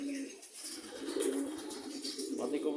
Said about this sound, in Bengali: মাদি কবুতরগুলো ছাড়ছি।